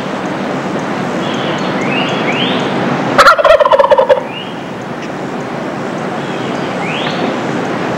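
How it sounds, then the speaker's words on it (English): Wild turkey gobblers gobble in spring, one loud rattling gobble bursting out near the middle over a steady outdoor background, with faint bird chirps scattered before and after. "as spring approaches and the gobblers start to gobble"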